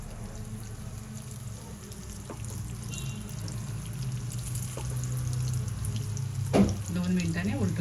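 Sabudana cutlets fry in about two spoons of oil in a pan, giving a steady, close hiss and sizzle that runs throughout, with a brief clatter near the end.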